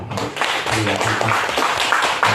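Applause for a teacher-training dissemination session in Klaten, a dense, steady wash of many hands clapping throughout, with a voice speaking over it at the low end.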